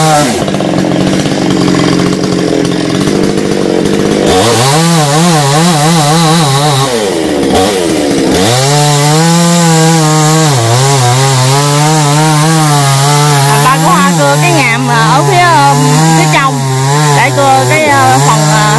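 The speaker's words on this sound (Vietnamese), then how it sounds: "Các ba của Hoa cưa ngàm để đi lên quá." A loud chainsaw roars up close, its engine pitch dipping and rising as it cuts a notch into a large mangrove apple tree, running continuously throughout.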